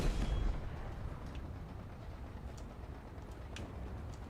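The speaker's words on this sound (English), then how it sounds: "It's definitely the Scorpion Cannon." Distant, rumbling blasts of the Scorpion tank cannon in a Halo Infinite multiplayer match, a heavy boom at the start followed by faint scattered impacts and low background rumble with no talk.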